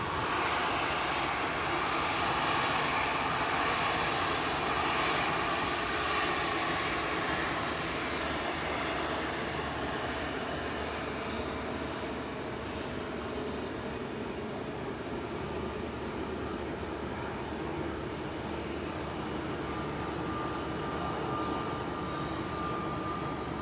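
A jet airliner takes off at Manchester Airport with a loud, continuous engine roar that holds steady and then eases slightly as it climbs away, with no talking.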